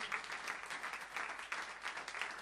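A church congregation at a Christmas service applauds, a rapid dense patter of many hands that swells and dips slightly over a few seconds, moderately distant.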